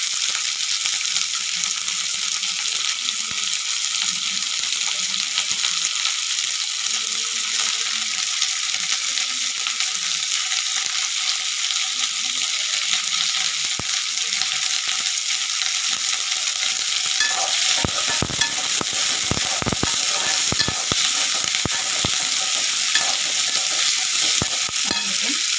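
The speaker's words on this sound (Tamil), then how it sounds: "வெங்காயம் போட்டாச்சுன்னா நல்லா வதங்கட்டும்." Onions sauté and sizzle in a pan for a spicy chutney, a steady close frying hiss with a few stirring scrapes and clatters toward the end.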